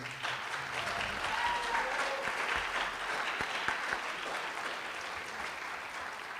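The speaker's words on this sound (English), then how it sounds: "we'd like to give our candidates a round of applause at this time" An audience at a school board candidate forum applauds steadily, a dense, even wash of clapping that holds for several seconds and fades only slightly toward the end, with no talk over it.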